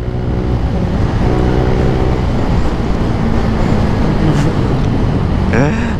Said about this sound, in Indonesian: Panjang banget cok, truk tebu.